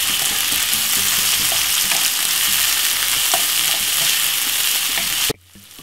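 Vegetables fry hard in hot oil in a pan for sweet chilli fried rice, making a close, dense, crackling sizzle with small pops throughout that cuts off abruptly near the end.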